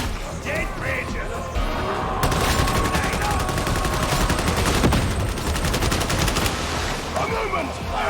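Rapid gunfire from Warhammer 40,000: Darktide fills the stretch, a dense, loud volley of shots and impacts. It runs almost continuously, with shouted voices mixed into the chaos.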